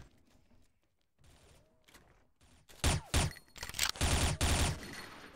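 Gunfire from the game XSHOT: after some quiet clicks and light sounds, several loud bursts of rapid shots ring out close and sharp in the second half, with short pauses between them.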